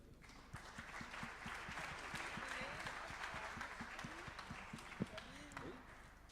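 An award ceremony audience applauds at a prize presentation. The clapping is faint and steady, continuing under a man's speech for about six seconds.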